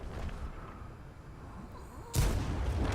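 Tank gun shot from a P.43 ter in a video game: a single heavy boom that cuts in sharply late, loud and low, over a rumbling ambient battle background.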